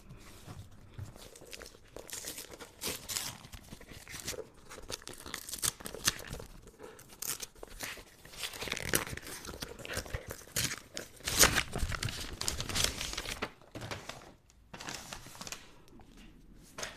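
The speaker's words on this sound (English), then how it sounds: "So let's unwrap it together." Wrapping paper is torn and crinkled off a gift-wrapped horror novel in quiet, irregular rips and rustles spread over about seventeen seconds, close and fairly soft.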